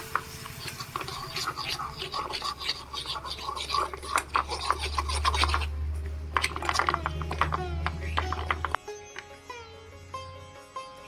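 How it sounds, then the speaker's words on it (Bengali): Spice masala for a drumstick pickle, with lemon juice added, is stirred and mixed in a bowl, producing uneven scratchy, rubbing scrapes in quick bursts that stop abruptly near the end. "ভালো করে মিক্স করে নেবো মশলাটা"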